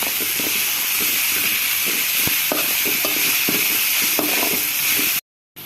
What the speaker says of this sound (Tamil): இப்போ நம்ம ஜிஞ்சர் garlic சேர்த்துக்கலாம். சேர்த்து கொஞ்சம் பச்சை வாசனை போகிற அளவுக்கு நல்லா வதக்கி விட்டுக்கலாம்.